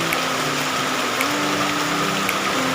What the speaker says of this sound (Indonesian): Tapi ternyata ini bulan April hujan masih saja turun.